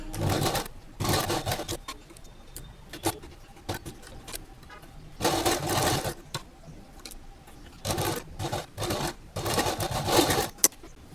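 A sewing machine stitches fabric for a colourful neck design in several bursts of rapid, steady running separated by short pauses, close and fairly loud with no talk.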